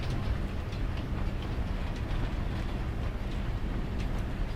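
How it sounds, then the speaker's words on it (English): A train ride in the farming video game Farming Simulator 22 gives a continuous rumbling roll with faint rhythmic clicks from the rails, steady and moderately loud throughout. "Quite a nice way of taking a look at the scenery on a train."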